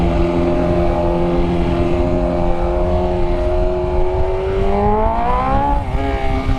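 A 2020 BMW S1000RR liter-bike exhaust drones loud and close at steady revs, then swells in a rising rev and dips near the end, with no talk over it.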